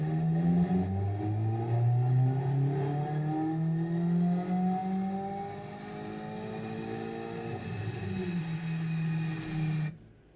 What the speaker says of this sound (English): Sounds like a solid car.